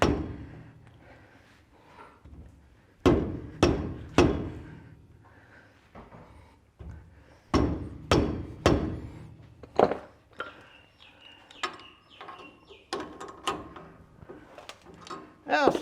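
A hammer striking the rear axle bearing on a Toyota Hilux/LandCruiser during an overhaul, a series of sharp metallic blows in uneven clusters with ringing decay, while someone speaks between strikes.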